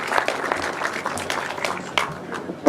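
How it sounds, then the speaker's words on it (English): An audience applauds the top three Super 1000cc sidecar finalists at a grasstrack meeting, a steady patter of clapping held at moderate distance for the whole stretch, with faint speech underneath. "let's have some applause please for the top three with the Super 1000cc sidecar finals"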